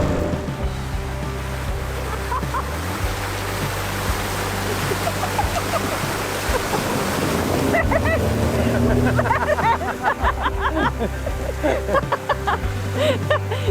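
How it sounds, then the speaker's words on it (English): Outboard motor on a small dinghy running steadily on the water near Tobermory, a continuous low drone with water splash and wash throughout, rising slightly in the second half. "It's not a very long dinghy mission, this one, Asher."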